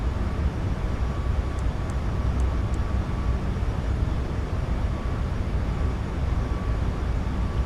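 A Boeing 737 MAX 8 taking off in Microsoft Flight Simulator 2024: a steady, loud jet engine roar holds throughout, broad and constant with a faint tonal whine, with no one talking.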